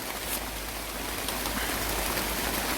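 Steady rain pours over an apple orchard in a drought-dry spell, a dense continuous hiss of drops with no voices, even and close throughout.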